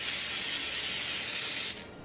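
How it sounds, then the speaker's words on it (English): A can of silver edible mist sprays onto cupcakes in one loud, steady hiss up close, which drops off abruptly near the end. "I am then going to spray it with my silver mist"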